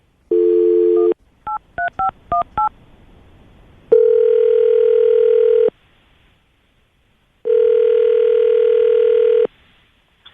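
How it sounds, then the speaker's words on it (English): A landline telephone call being placed: a steady dial tone, then a quick series of DTMF keypad beeps, then two long ringback tones separated by a gap, loud and close with no talking. "I'm going to call her right now"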